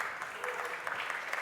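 A conference audience at a GitHub Universe tech talk breaks into brief, light applause, scattered claps that are faint and somewhat distant in the room.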